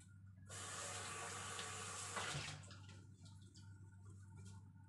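Two to three cups of water poured in a home kitchen while making a hair-care remedy; a loud, steady splashing pour fills the middle couple of seconds, then fades to a quieter trickle over a low hum.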